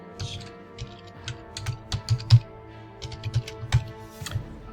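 Quiet keyboard typing during a physics simulation exercise, entering an answer of 50,000 joules: a scattering of soft, irregular key taps and clicks, close and fairly faint, with no talking.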